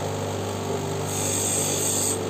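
A stone cabochon is ground smoothly on a lapidary machine, a steady close rasping hum with a constant motor drone throughout and no voices.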